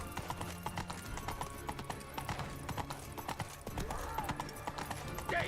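Roach the horse galloping in The Witcher 3 video game, with rapid, rhythmic hoof clip-clops throughout, fairly quiet, plus a brief whinny and faint voices.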